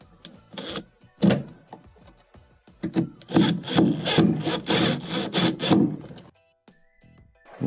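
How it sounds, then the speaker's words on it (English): A screw being driven and tightened by hand into a washing machine's shift actuator, giving a series of close scraping, rubbing strokes in an uneven rhythm, then a quiet pause near the end. "Let's slide in our first screw on the top. Tighten it up here."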